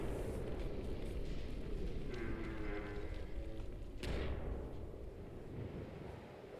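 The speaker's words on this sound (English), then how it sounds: "You triggered the explosion on your first try." A video game explosion in The Descendant, chapter 1, heard as a sustained, muffled rumble with a sharp blast near the end of the clip that then fades into lingering noise.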